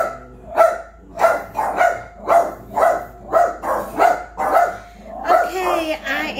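Dogs bark repeatedly in a steady, regular rhythm close by, about one bark every half second, with a voice mixed in near the end.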